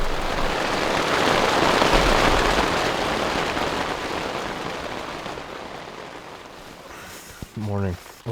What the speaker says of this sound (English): It rained quite a bit last night